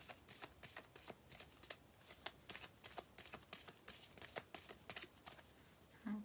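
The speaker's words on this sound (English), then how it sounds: "As I stop shuffling" Rapid papery riffling of tarot cards being shuffled, a steady flurry of soft snaps and flicks, close and quiet, with no talking.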